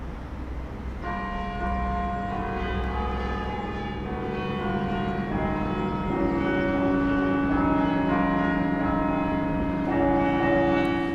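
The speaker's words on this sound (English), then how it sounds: "Here in St. Anne's, not only can we get to ring the famous bells" Church bells of St. Anne's in Cork ring together in a layered, sustained peal, their overlapping tones steady and fairly loud with no voices.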